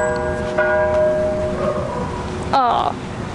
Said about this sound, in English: That bell.